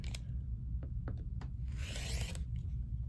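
Rotary or blade cutting trims excess fabric from a pieced quilt block along a ruler, heard as a few short scraping strokes and one longer hiss-like cut over a steady low room hum.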